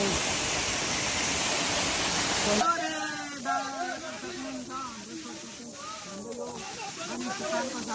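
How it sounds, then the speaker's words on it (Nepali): The Kalitar waterfall in Sindhuli roars as a loud, dense rush of falling water for a few seconds, then someone talks over a softer, continuous flow in the background. "झरनाको पानी तल बगिरहेको छ।"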